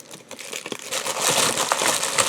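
A plastic mail bag is cut open and handled close up, giving a run of crinkling, rustling plastic with small sharp snips and crackles, fairly quiet and with no voice.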